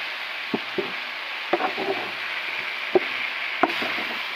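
Okra frying down in a pan for a tangy jelly chutney, a soft constant sizzle broken by several sharp scrapes and taps of a spatula stirring against the pan.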